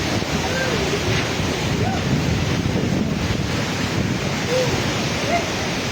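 Steady roar of sea surf mixed with heavy cyclone wind buffeting on a coast, continuous and loud throughout with no pauses.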